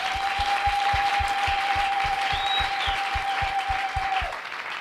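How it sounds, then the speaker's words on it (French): A church audience claps and cheers in acclaim, steady broadband applause with a faint sustained tone running underneath until it cuts out near the end, after which the clapping continues. "Est-ce que vous pouvez vous encourager par des acclamations?"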